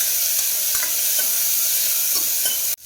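Small shallots and tomato with ginger and garlic fry in a hot pan, a loud continuous sizzle broken by several scraping stirs, ending abruptly; no voices.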